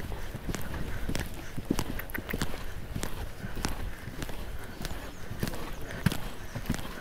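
A horse walking and turning in a riding arena, its hoof beats landing in an uneven rhythm on the footing, with rustling and low background noise throughout.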